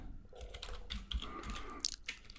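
Quiet, close typing on a computer keyboard, a run of irregular light key clicks with small pauses, heard alone.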